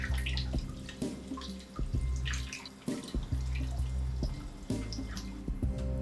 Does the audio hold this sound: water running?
yes